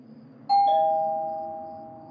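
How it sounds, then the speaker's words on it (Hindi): A doorbell gives a single two-tone ding-dong, the second chime ringing out and slowly fading over a quiet background, used as a sound effect in a Hindi horror story. "उसने फिर से एक और बार बेल को बजाया"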